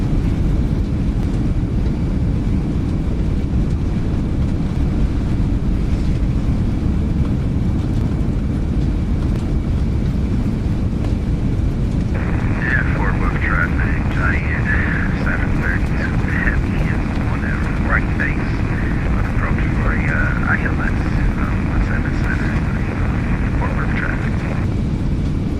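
A Boeing 747 freighter's thrust reversers roar on landing in X-Plane 12, a heavy, steady low rumble that fills the whole stretch, with voices and radio chatter layered over the second half.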